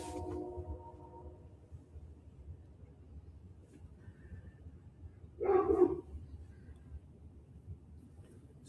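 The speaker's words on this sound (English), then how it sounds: "Such a vicious dog." Neighbour's dog next door letting out one short, loud bark burst at a distance over a quiet background with a low hum.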